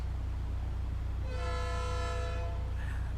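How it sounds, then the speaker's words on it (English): A train in the flight game Air Hauler 2 sounds a long, harmonically rich horn blast over a constant low rumble, fairly faint and alone. "Yay, trains. Hi, train."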